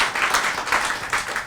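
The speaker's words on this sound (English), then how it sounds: "I'll always stop for an applause line." Audience applause at a book launch, a steady wash of many hands clapping at moderate volume with slight rhythmic swells, no voices over it.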